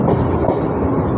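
Loud steady rumble of an EMU train arriving at a crossing on the Ranaghat–Bangaon line, a dense continuous roar close by with no clear breaks.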